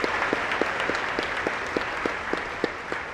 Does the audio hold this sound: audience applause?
yes